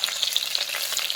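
Onion with ginger-garlic paste fries in a pan with a steady, close, bright sizzle and crackle, no voices.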